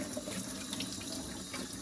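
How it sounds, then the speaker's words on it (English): Tap water runs steadily into a sink to soak a dye-sublimated glass, a continuous close hiss and splash with no pauses. "all I have to do is to soak it with water"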